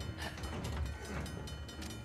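A train in the video game Uncharted: The Lost Legacy rumbles along with a loud, steady rolling roar and rhythmic clanking of cars, heard on its own without speech.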